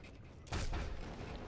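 A silenced pistol shot in the video game Sniper Elite V2: a single muffled, thudding report with a short rumbling tail, heard alone without talk.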